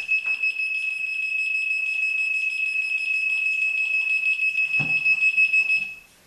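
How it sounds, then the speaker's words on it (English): A speaker driven by a 555 timer oscillator circuit on a hydrogen generator emits a steady high-pitched electronic tone, pulsing rapidly and continuously before cutting off, with a brief thump partway through. "The main reason I had the speaker in there is just another method of showing that the 555 timer circuit is actually oscillating and making a pulse."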